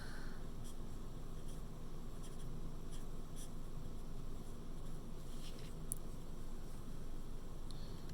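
Marker or chalk scratching on a board while a subtraction problem is worked out, a steady soft scraping with a few brighter squeaky strokes throughout, close and alone with no talk.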